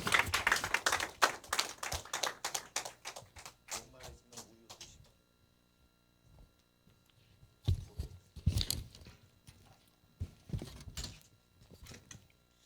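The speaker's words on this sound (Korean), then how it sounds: "우리 선교사님 나오실 때 박수로 환영해 주시면 감사하겠습니다" A church congregation claps to welcome a missionary with a burst of loud, dense applause that thins out and stops after about five seconds, followed by scattered quieter knocks and shuffling.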